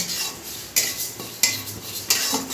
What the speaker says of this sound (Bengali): কড়াই ভালো করে ধুয়ে একটু মুগ ডাল ভাজা বসিয়ে দিয়েছি